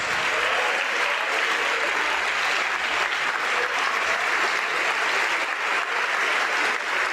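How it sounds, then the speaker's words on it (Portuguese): A church congregation applauding in praise, a thick, even wash of clapping that holds steady throughout with no talk over it. "E vamos aplaudir mais ao Senhor Jesus"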